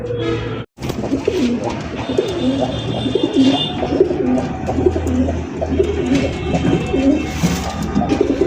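Yellow Indian Bombay pigeons coo over and over in a loft, a repeated rhythmic throaty cooing from several birds, near and loud, with rustling and faint chirps in the background and no talking.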